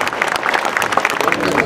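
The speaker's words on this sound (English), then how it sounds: "there was a ripple of applause in its wake" A crowd lining the route of the Queen's funeral procession breaks into a rippling round of applause, irregular and moderately loud, with voices mixed in over the clapping.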